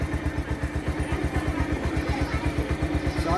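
A Bajaj Pulsar 150 motorcycle engine runs at a steady idle, a close, loud, even putter of rapid exhaust pulses with mechanical clatter and no talking.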